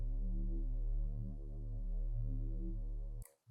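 A Reese bass synth patch built in Native Instruments Massive plays on its own as a thick, sustained, throbbing low drone with slow phasing movement and a little grit. It holds steady and loud for about three seconds, then cuts off abruptly.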